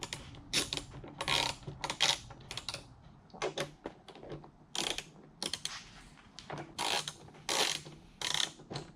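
A ratchet loosens the bolts on the mounting bracket of a Harley tour pack during a backrest and luggage rack install. Bursts of rapid clicking come in short repeated runs with pauses between them, close up and with no speech.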